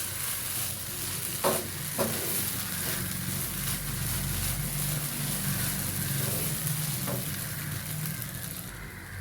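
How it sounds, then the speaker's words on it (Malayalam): Oats upma is stirred in a pan over a high flame: constant close sizzling, with a few sharp scrapes and clinks of the spoon against the pan and no talking. "നമുക്ക് 1 മിനിറ്റ് നേരം ഹൈ ഫ്ലെയിമിലിട്ടിട്ട് ഒന്ന് മിക്സ് ചെയ്തെടുക്കാം."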